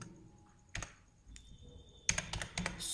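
Typing employee names into an Excel sheet on a computer keyboard, short bursts of crisp close key clicks separated by quiet pauses, with a faster flurry of keystrokes toward the end.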